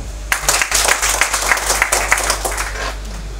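An indoor lecture audience breaks into applause: dense, sustained clapping from many hands, close and loud, continuing steadily for a few seconds without any talk.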